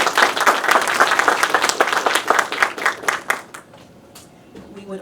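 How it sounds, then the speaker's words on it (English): Warm applause from an event audience honoring partner organizations such as Pathways to Peace and the East-West Center: dense, loud clapping for about three seconds that thins into scattered claps and fades to near silence. "Please join us in giving our partners a warm aloha and a round of applause."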